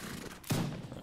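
A single gunshot in the video game Mount and Blade Warband, a sharp close report with a brief low-pitched boom that fades out, no voices.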